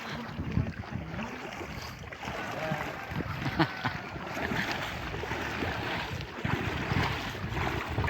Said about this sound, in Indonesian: Angin malam.